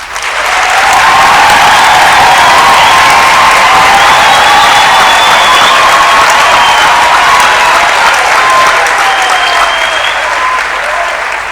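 Graduation ceremony audience applauding and cheering in a large hall, a loud, sustained wash of clapping with shouts and whoops riding on top throughout.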